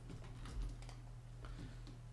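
Light, rapid keystrokes patter on a computer keyboard in short bursts, close and quiet over a low steady hum, with no talking.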